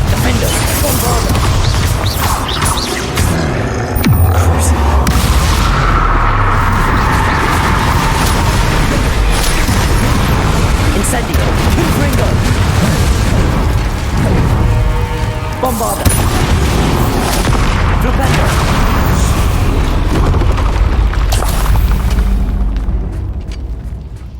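Spell blasts in the video game Hogwarts Legacy erupt in rapid succession, heavy booms and crashes layered over a constant loud rumble of combat effects with music, lasting throughout.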